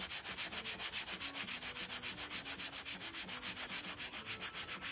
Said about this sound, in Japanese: サビ落としなんか薬液につけないでこれで磨いた方が良かったかなっていう感じですね。